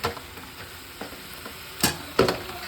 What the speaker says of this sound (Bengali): ওই সমস্ত চিকেন আলু পেঁপে সব দিয়ে কষতে থাকবো